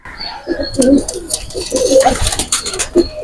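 A pair of Pakistani pigeons coo in repeated throaty, bubbling phrases close up, loud and clear, with a little faint background noise between the calls.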